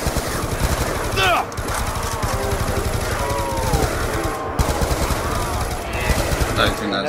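Gunfire in Black Ops 2 Zombies: dense, loud bursts of automatic fire crackle almost nonstop with a few short pauses, mixed with game effects and someone talking.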